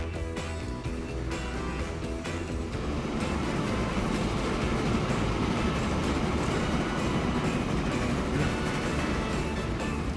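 A passenger train rolls along steadily in the Transport Fever simulation game, a loud continuous rumble with rhythmic rail clatter throughout and no talking.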